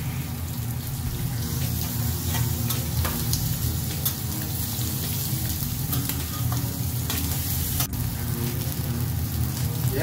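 Bacon and sausages fry in a pan with a loud, continuous sizzle and crackle close up, broken by a few faint scrapes and clicks as the meat is moved.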